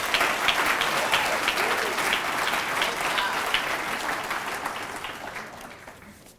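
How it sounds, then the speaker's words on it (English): A large crowd at the Rigel Awards expo gala claps for the event's sponsors, a loud, full wash of applause that holds steady and then gradually tapers off toward the end. "Let's give all of our sponsors a big round of applause."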